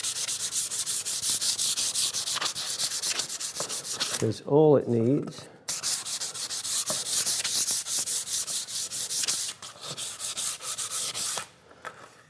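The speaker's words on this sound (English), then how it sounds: "So if you're going to sand it, just a very light sanding." Light hand sanding on a wooden workbench made by hand: steady, close rasping strokes in a continuous rhythm, pausing briefly while someone speaks, then resuming until near the end.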